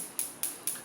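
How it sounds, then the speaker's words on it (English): Three sharp, evenly spaced ticking clicks of an Ultra Optiflame 3GF gas stove's auto ignition, crisp and close, repeating at a quick steady pace against a quiet background. "That is the sound of auto flame ignition."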